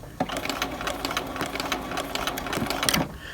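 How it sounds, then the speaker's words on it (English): A sewing machine backstitches in reverse for a short distance while sewing a collar and lapel facing. It runs as a steady, close, fairly loud mechanical whir of rapid needle strokes from start to finish. "So you're going to sew backwards, I'd say about 1/4 of an inch or 3/8 of an inch."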